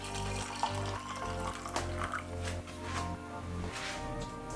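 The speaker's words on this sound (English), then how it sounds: "Then I pour some hot water in it like this" Hot water pours into a cup holding cloves for turmeric tea, a steady liquid trickle with small splashes over background music.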